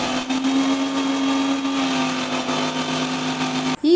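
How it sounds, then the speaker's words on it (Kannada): A mixer grinder whirs steadily at close range, blending amla juice with curry leaves, cumin and water, holding one loud, even motor tone before a short dip and restart at the end. "ಸ್ವಲ್ಪ ನೀರು ಹಾಕಿ ಮಿಕ್ಸಿ ಗ್ರೈಂಡರ್ ಹಾಕ್ತಾಯಿದ್ದೀನಿ"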